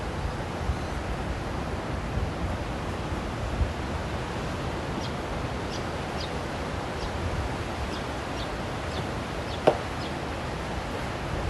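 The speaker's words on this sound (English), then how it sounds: "There's a bit of swell hitting it on the right, on the good sets" Ocean swell breaking at the Gold Coast spit, a steady broad wash of surf and wind noise heard from a distance, with no voices.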